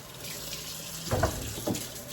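Food such as pot roast ingredients rinsed under a running kitchen tap during canning prep, a steady hiss of water with a couple of louder splashes as items pass under the stream, with no talking.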